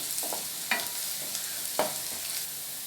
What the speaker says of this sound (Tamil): பூண்டு இந்த ஆயிலே நல்லா ஃப்ரை ஆகி வரட்டும்.